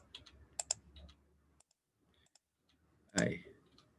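Several sharp, dry clicks from a computer mouse come in quick bursts, close and fairly quiet, with one louder rustling clatter near the end and a faint background hum.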